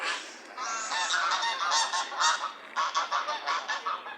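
Geese honk repeatedly outdoors, a lively series of loud nasal calls overlapping at first, then breaking into distinct rhythmic honks, fairly close with no talking.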